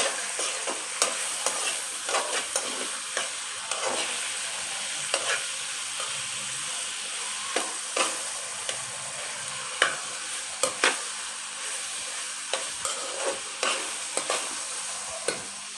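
Meat fries and is stirred in a pan for a turnip meat curry (shaljam gosht): a steady sizzle runs throughout, punctuated by frequent sharp scraping and clinking strokes of the spoon against the pan.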